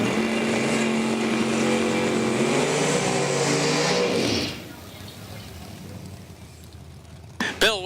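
Drag racing cars at Numidia Dragway during a Super Pro race, loud engine roar and revving that cuts off sharply midway, leaving quieter background with a commentator talking, then a brief burst at the end.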